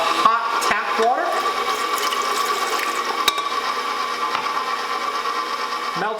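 Hot tap water poured into a running stand mixer bowl while making Manidokan rolls, a steady close splashing stream over the low hum of the mixer, with brief clinks near the start.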